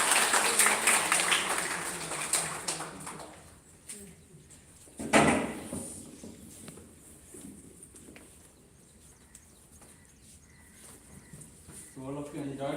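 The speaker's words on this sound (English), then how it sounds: "We'll clap for her." Applause from an audience at a school yoga workshop after a demonstrator finishes her poses, a dense burst of clapping in the opening seconds that fades out, followed by a sharp knock and scattered room noise with voices.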